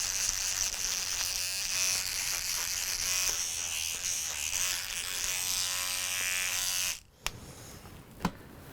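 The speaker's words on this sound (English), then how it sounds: "I like using an electric toothbrush, and that way I know that I've gotten it completely cleaned." An electric toothbrush buzzes steadily against a band instrument mouthpiece for about seven seconds, close and loud, with its pitch shifting slightly as it works, then it stops, followed by two brief clicks.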